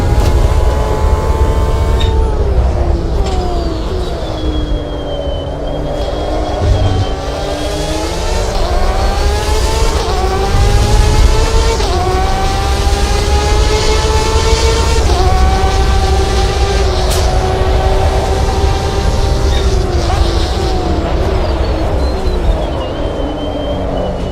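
A Porsche Carrera Cup race car engine screams loud and close through the gears, its pitch climbing and dropping with each shift and lift, steady and continuous with no talking.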